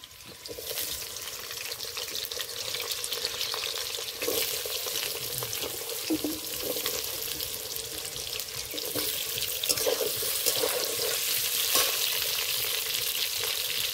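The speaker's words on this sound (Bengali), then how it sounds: "এবার আমি আলুগুলো ভেজে নেব" Potatoes fry in a pan for an egg and soyabean curry, a steady broadband sizzle running throughout, with occasional scraping and stirring knocks and no voices.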